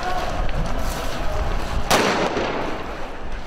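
Security forces fire tear gas, rubber bullets and birdshot at protesters during street clashes in Cairo; one sharp, loud report cracks out over a constant roar of crowd noise.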